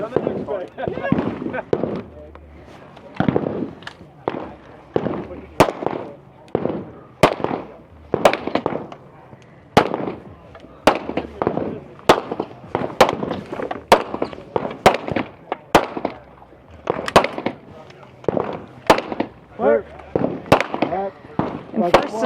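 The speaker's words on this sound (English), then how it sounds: "And then pistol, also 9 shots, about 15 yards out." Pistol shots ring out at a tactical competition stage, sharp, loud cracks fired in quick, uneven bursts, interleaved with speech and crowd voices throughout.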